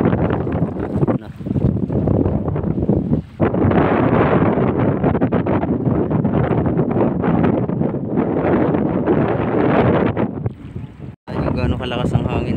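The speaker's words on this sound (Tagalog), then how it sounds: "gaano kalakas ang hangin, oh" Steady, loud wind buffeting the microphone with a heavy broadband roar, over an engine-like rumble of a boat moving on water, with a few brief dips.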